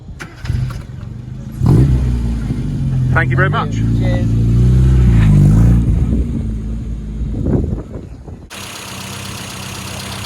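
A modified green Mini car with a Paul Jeffers engine revving and pulling away on a road run, loud and close with a rising engine note. Someone speaks briefly over it.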